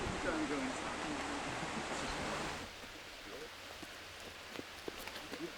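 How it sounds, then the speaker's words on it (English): Steady rain falls on an outdoor disc golf course as a broad, dense hiss that is louder at first and then drops to a softer patter with scattered drips, with faint talk underneath. "the rain has picked up"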